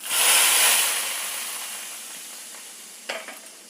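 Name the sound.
mustard seeds and curry leaves sizzling in tempering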